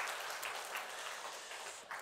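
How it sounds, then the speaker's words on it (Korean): A church congregation softly applauds to welcome newly registered members during a Sunday service, a steady, low, somewhat distant patter throughout. "박수로 우리 환영하도록 하겠습니다"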